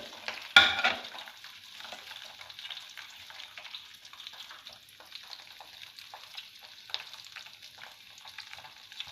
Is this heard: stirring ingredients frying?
yes